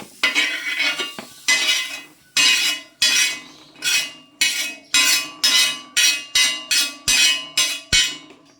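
Chicken sukka, wedding style, cooked in a batch for five people, is scooped onto a plate: a steady series of about a dozen loud metal spoon scrapes and clinks against the pan, evenly spaced, with no talking.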